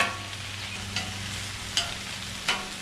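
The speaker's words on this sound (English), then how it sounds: "Stir this meat around a little bit." Pastrami meat sizzles on a Blackstone griddle, a steady hiss broken by several scraping stirs with a spatula.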